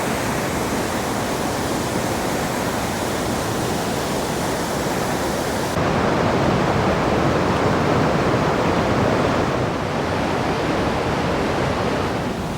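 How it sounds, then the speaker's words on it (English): A powerful waterfall in Desolation Wilderness near Tahoe roars as a dense, unbroken rush of water, loud and close throughout with no voices. "we're stopping to have a snack and enjoying the pure power of this waterfall"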